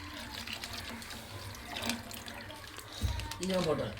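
Packet milk is poured into payasam in a soft, continuous liquid pour close by. A brief murmur of voice comes near the end.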